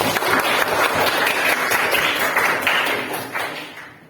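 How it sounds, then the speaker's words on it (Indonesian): A classroom of Islamic religious education students clapping together, a brisk burst of many hands that holds steady for a few seconds and then tapers off. "Tepuk tangan buat kita semua"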